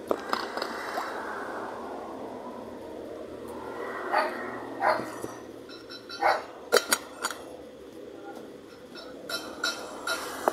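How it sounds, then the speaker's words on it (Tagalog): A dog barks in short, scattered bursts at close range, several sharp yaps spread over the later half, heard over steady background noise and some breathing or snuffling. "nagkakahol na yung isang aso"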